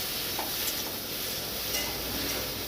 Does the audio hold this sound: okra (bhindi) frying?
yes